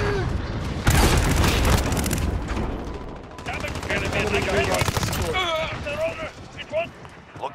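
Rapid automatic gunfire and heavy booms fill a Call of Duty: Modern Warfare firefight, loud bursts followed by scattered shots and radio-style voices calling out over the battle.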